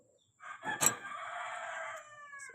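A rooster among breeder stock chickens crows once, fairly close and clear, a single drawn-out call against a quiet farm background.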